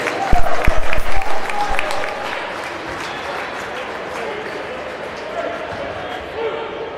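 Basketball fans in a college gym applaud players checking in, with a few sharp bounces and crowd noise up front, then a sustained wash of clapping and murmur.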